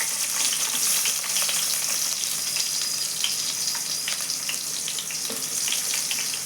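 Onion pieces fry in a pan for moringa leaf dal, giving a steady, close sizzle with scattered crackles and pops and brief stirring scrapes throughout.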